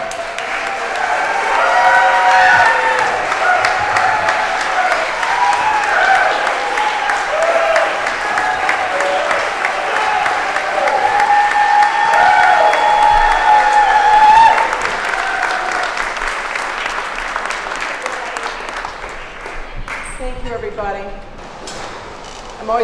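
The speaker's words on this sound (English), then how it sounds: "I'd like everybody to give a big round of applause to Barbara Lifton." An audience applauding a speaker, sustained dense clapping close by that swells and holds for about twenty seconds before tapering off near the end.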